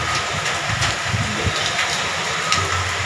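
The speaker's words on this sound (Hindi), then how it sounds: "सुबह हो गई है और अभी भी इतनी बारिश हो रही है" Heavy morning rain pours down in a steady, dense hiss that holds at an even level throughout, with no voices over it.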